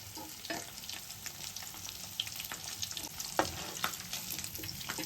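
Dried fish frying in oil, giving a continuous soft crackling sizzle with scattered pops and occasional utensil scrapes, fairly quiet and close.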